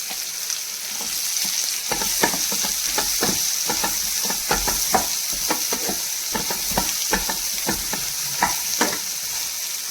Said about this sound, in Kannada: ನೋಡಿ, ಈ ಥರ ಫ್ರೈ ಆಗಬೇಕು ಈರುಳ್ಳಿ